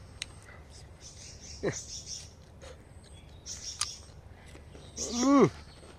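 Tailorbird chicks in a nest in a guava tree behind a house give a few thin, high chirps and rising calls, sparse and fairly close against quiet background, with a louder cluster near the end.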